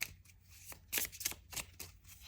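A deck of playing cards shuffled quickly near the microphone, giving a few soft riffling bursts and flicks in a quiet room.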